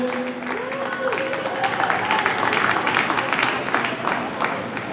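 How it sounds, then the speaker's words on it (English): An audience claps steadily at a cycling pursuit medal ceremony, the applause building and holding under brief talk at the start. "A round of applause please for Luke Howard and Tyler Lindorf."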